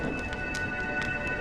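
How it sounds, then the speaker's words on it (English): Steady rain in the video game Honkai Star Rail, a dense continuous patter with a few soft crackles of thunder or heavier drops rising above it, moderate and even throughout, no voices. "When will this rain ever stop?"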